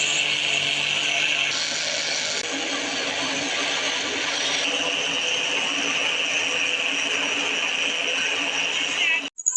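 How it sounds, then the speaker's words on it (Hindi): An electric grinder whirs loudly and steadily as it pulverises about a cup of sugar into powder, a continuous high buzzing that cuts off abruptly at the end. "तो अभी हम चीनी को अच्छे तरीके से ग्राइंड कर लेते हैं।"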